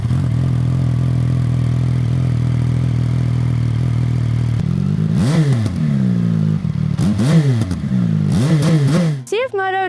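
A 2025 CFMoto 675SS triple-cylinder motorcycle, 95 hp, idles with a steady low hum, then is blipped in a series of rising-and-falling revs, ending on a sharper burst.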